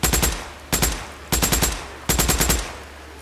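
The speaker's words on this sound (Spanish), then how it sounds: "Vamos a ver si disparándoles." Gunfire in the video game Days Gone: four sharp, loud bursts of rapid automatic shots, each a quick rattle of several rounds, evenly spaced with brief gaps between them.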